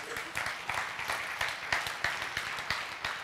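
Church congregation clapping for a healing testimony: a moderate patter of many hands with distinct, evenly spaced rhythmic beats running through about three seconds.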